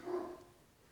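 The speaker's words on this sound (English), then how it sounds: "If you guys can hear dogs barking, I'm so sorry." A single dog bark, moderately close and loud at first, then fading into quiet background with no talk.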